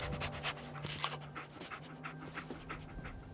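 Dogmeat, the canine companion in Fallout 4, pants steadily and rhythmically up close, with quick breaths continuing throughout amid faint game ambience and tonal hum.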